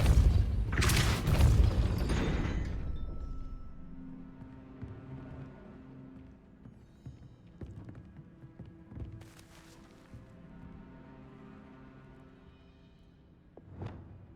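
A Depulso spell goes off in a Harry Potter video game as a loud, booming burst of force that rolls off into a quieter mechanical rumble, with a brief thump near the end.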